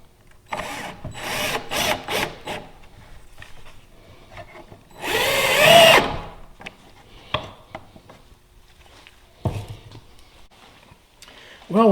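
A power drill bores into wood on a small granite-top table being restored, whirring in short bursts with one longer run, between tool clatter and a person talking.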